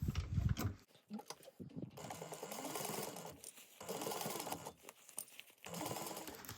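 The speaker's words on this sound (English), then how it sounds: "we are going to just base this on at 1/8 of an inch" A sewing machine basting the side of a small fabric bag at an eighth-inch seam, running in several quiet bursts of rapid mechanical stitching separated by short pauses.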